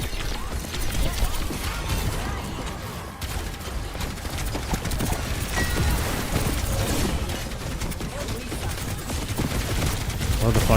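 Steady, continuous gunfire in the shooter Overwatch, a dense unbroken stream of shots lasting several seconds under a busy game soundscape.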